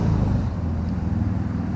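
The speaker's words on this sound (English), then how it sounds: "I'm in a very busy corner here in Atlanta, so there's a lot of traffic noise." Street traffic at a busy corner in Atlanta during a spring garden tour, a low continuous rumble of passing cars and motorcycles, fairly steady and moderately loud.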